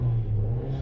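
A used car's engine, just started, idles steadily nearby with a low, even rumble and a constant droning hum.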